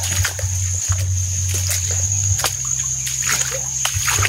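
Water splashing and sloshing as something wades through a river, with steady low engine-like hum underneath and scattered splashes throughout.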